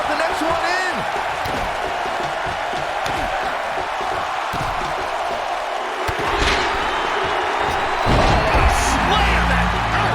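A wrestling slam lands in the WWE 2K19 video game during an Elimination Chamber match: a heavy thud rises over constant arena crowd roar, with commentary voices running throughout.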